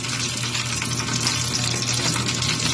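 Food fries in a pan with a dense, continuous, loud sizzle and crackle close by, steady throughout with no voices.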